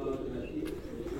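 Breeding pigeons coo in their setup, a low steady rolling murmur of calls close by with faint background noise.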